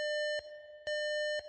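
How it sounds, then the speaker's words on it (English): An electronic alarm sounds in steady, loud tonal beeps, long pulses separated by brief gaps, with no voices over it. "The alarm goes off."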